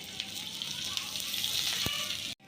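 Onion frying in oil with cumin, mustard seeds, garlic and green chili, a steady close sizzle with occasional small pops that cuts off abruptly near the end.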